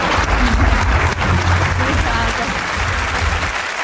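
A studio audience of celebrities at a televised interview claps loudly and continuously, a dense close wash of applause lasting the whole four seconds and thinning slightly at the end.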